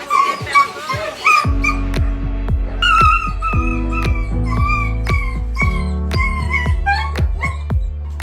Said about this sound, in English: Poor puppy got caught in an awning